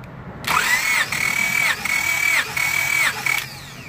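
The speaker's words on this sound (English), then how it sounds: "crank our engine" A car engine being checked for a misfire cranks on its starter during a compression test, giving a steady whirring drone with four even, rhythmic pulses over a few seconds. It is loud and close, with no talk.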